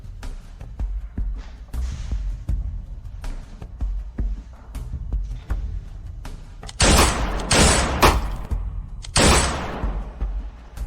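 Gunshots fired at a shooting target, several sharp cracks spaced over the span, with three louder, sustained bursts near the end ringing out over a faint background.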